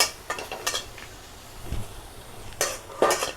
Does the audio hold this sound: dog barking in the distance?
no